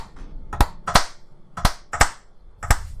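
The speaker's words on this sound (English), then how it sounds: "you hear six claps" Six separate hand claps, used to line up sound and picture: sharp, close, fairly loud slaps spaced unevenly over three seconds, the first one softer, with quiet room noise between them.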